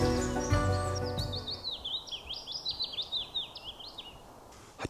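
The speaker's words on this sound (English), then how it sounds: "it's a willow warbler, that's a wren" A willow warbler and a wren sing in woodland, with a bright run of descending and bouncing high notes carried over a quiet background, moderately near and faint, with a low rumble at the start.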